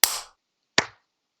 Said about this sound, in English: And then let's clap.